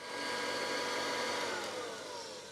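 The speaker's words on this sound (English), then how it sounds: "running a 1968 Kirby right after he took a 1968 Hoover for a test drive" A 1968 Kirby vacuum cleaner runs with a steady, loud, broadband whir that holds at an even level throughout, with no voices.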